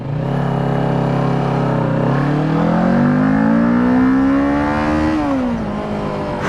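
Two-cylinder motorcycle engine revving hard toward redline while riding, a loud close growl that climbs steadily in pitch, holds near the top, then drops back off, with no voices.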